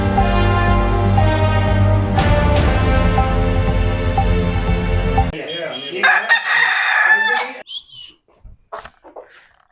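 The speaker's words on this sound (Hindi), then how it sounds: "ये 2 मुर्गे हैं इनके पास जो इन्होंने पाले हुए हैं।" Two pet roosters crow loudly close by, one long harmonic cock-a-doodle-doo followed by a second overlapping call, then scattered clucks and short squawks as the sound breaks up toward the end.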